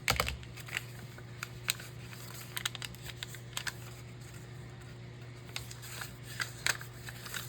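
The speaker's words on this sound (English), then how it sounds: "I'm just kind of cutting down to a workable size." Material being cut down to a workable size for an art project: quiet, scattered crisp snips and rustles, irregular and fairly close, over a low steady hum, no voices.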